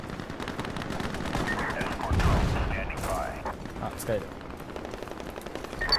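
Rapid bursts of gunfire from the free FPS game Ironsight crackle in the background, with a voice speaking briefly over the shooting.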